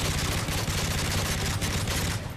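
A G18 pistol in Modern Warfare 3 fires on full auto, a dense, fast stream of close shots that runs without pause and trails off at the end.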